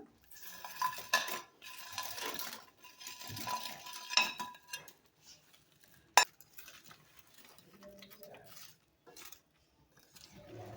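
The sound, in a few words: fried bread being stirred into gravy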